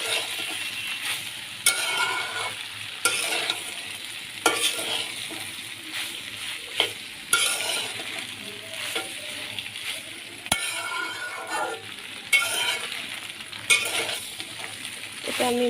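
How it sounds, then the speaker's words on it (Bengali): Pasta with vegetables, peas and egg tossed in a sizzling pan, with repeated scraping stirs and utensil clinks at a steady rhythm over a continuous fry. "পাস্তাটা দিয়ে ভালো করে নেড়ে চেড়ে সবজি মটরশুঁটি সাথে মিক্স করে নেব"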